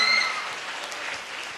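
Applause for the chief guest at a hall event, a dense burst of many hands clapping at once, loud at first and tapering slightly over under two seconds.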